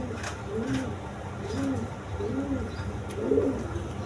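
A pair of pigeons, offered for sale with eggs and chicks, coo in four soft, evenly spaced rolling calls close by, over a low background hum.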